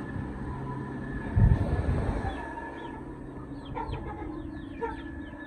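Chickens cluck and chatter close by, with a louder burst of low noise early on, then scattered soft clucks and bird calls.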